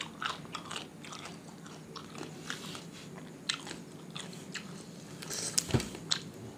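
Crunchy fried shrimp being bitten and chewed up close, a quiet run of repeated crisp crunches and squishy chewing sounds.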